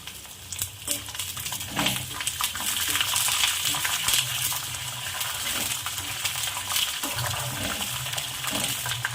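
Garlic and green chilies frying in oil with peanuts for a peanut chutney, giving a bubbling sizzle with clinking and stirring knocks, close and fairly quiet, no talking.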